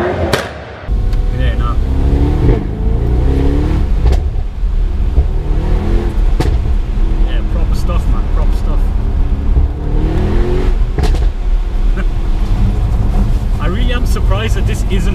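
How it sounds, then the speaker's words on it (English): A 2018 Mercedes-AMG E63 engine revs and drones through its standard exhaust, with sharp exhaust pops and bangs cracking out at intervals; someone talks over it. "every time it does a bang like that, I'm surprised it's a standard exhaust"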